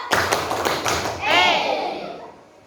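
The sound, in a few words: class clapping in a rhythm clap game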